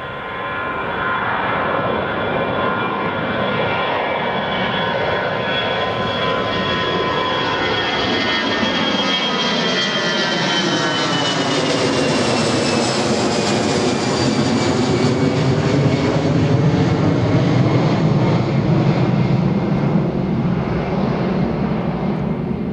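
A Hi Fly Airbus A380-841 jet lands at London Gatwick, its loud engine roar sustained and swelling with a sweeping pitch shift as the aircraft passes close by, steady and continuous throughout.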